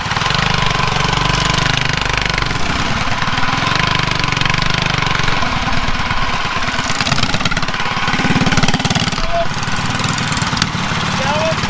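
A drag racing mini bike engine runs steadily and loud close by, a buzzing, throbbing drone that holds throughout with little change in pitch, while people talk over it.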